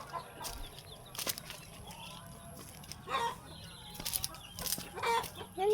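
Native chickens, including laying hens, cluck in short bursts close by, with a few louder squawks over a steady outdoor background.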